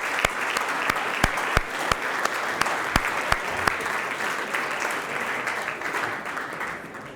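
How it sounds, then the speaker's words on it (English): An audience at a talk applauds itself, producing sharp, scattered claps that run steadily for several seconds before thinning out. The sound is fairly faint and comes from across the room. "So I wanted to start by asking you guys to applaud yourselves for everything that you've been doing"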